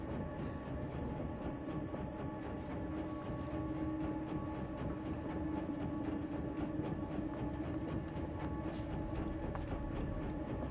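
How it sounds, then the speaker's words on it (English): A train rolls past in the dark side-scrolling game INSIDE, a steady rumbling wagon drone with rhythmic clatter of wheels lasting throughout, loud and continuous with no talking. "Another train."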